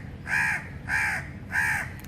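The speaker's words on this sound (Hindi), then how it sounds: "ये कौवा हमारे मेरे सामने आके उतरा हुआ है।" A crow perched nearby gives three loud, harsh caws evenly spaced about half a second apart, each call drawn out and clear against faint background noise, with no talking.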